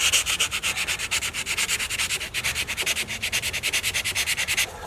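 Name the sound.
sanding gelcoat on a bass boat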